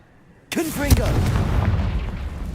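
A Confringo fire spell bursts in Hogwarts Legacy: a sudden loud blast with a crackling, booming impact that rolls on as a sustained rumbling roar for a couple of seconds.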